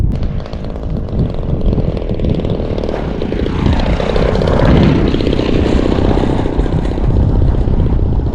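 Starfire RC model airplane with its motor slightly sputtering, droning loudly and steadily as it flies past close by, the pitch sweeping downward as it passes, with no talk.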